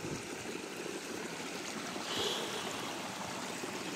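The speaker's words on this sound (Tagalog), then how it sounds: "Dito na kami sa maliit na sapa mga tol." A small stream flows with a steady, close rushing and trickling of water, continuous and fairly even throughout, with no voices over it.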